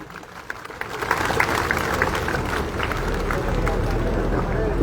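Sustained applause with clapping from a crowd gathered at a sit-in protest outdoors, a dense steady wash that swells after the first second and holds loud, with crowd murmur mixed in.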